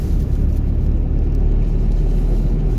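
A car engine labours uphill in third gear, a steady low rumbling drone held under load throughout, close and fairly loud with no talking.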